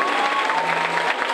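Applause from a high school crowd greets a senior in cap and gown at a special graduation, a steady dense patter of many hands clapping continuously and fairly close throughout.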